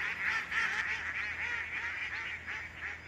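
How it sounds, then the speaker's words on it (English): A flock of ducks quacks in a continuous, faint, overlapping chorus of nasal calls, steady throughout with no talk. "All the ducks."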